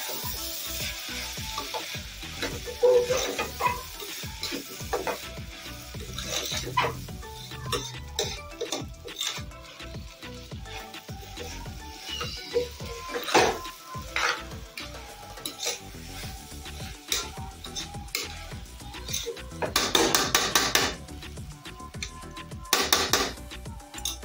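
Masala rice and potatoes being stirred and fried in a cooker pot, with continuous sizzling broken by repeated scraping and clanking of a spoon against the metal, busiest near the end.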